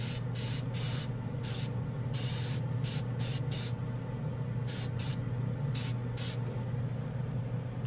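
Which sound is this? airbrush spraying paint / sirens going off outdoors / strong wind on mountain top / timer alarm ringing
airbrush spraying paint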